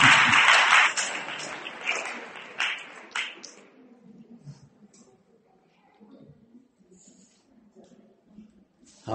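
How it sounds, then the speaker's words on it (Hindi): Audience applause at a Jain religious discourse, a loud burst of clapping that fades within a few seconds into scattered claps and a quiet hall murmur. "जोरदार तालियां बजाइए।"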